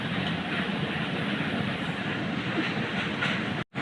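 A train in the video game Indian Bike Driving 3D rolls past with a steady, loud rumble and clatter of wheels on track that runs unbroken until a brief cut-out near the end.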